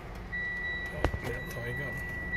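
Steady electronic reversing beeps from a Mitsubishi Xpander backing up, heard faintly alongside someone speaking and a brief thump.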